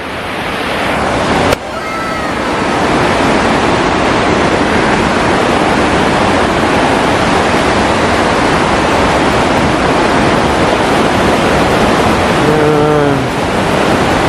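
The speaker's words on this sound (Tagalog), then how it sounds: "Marinig mo yung tubig." A waterfall in Canada in winter roars loudly and continuously, a dense steady wash of rushing water, with a brief voice calling out near the end.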